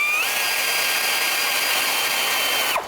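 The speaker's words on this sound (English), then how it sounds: "14 millimeter socket for the top bolt" Power driver with a 14 millimeter socket spinning an alternator bolt on a 2006-2012 Toyota Rav4, one continuous loud high whine that revs up and holds steady before cutting off abruptly.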